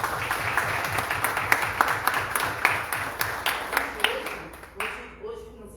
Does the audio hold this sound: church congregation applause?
yes